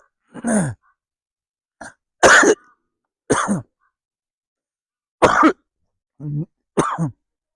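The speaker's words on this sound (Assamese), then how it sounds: "অলপ কাহ আহি গৈছে" Several separate coughs and throat clearings, sharp bursts with silent gaps between them, close to the listener, no other sound around.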